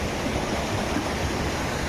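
Water from a Narmada supply line pours through a filter into a storage tank, a dense, steady rushing roar heard close up throughout without pause or speech.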